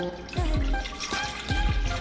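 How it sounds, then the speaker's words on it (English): Purified water pours into a mixing container for car detailing, a continuous near splashing stream with gurgles. "So now I'll add my 15 ounces of purified water here."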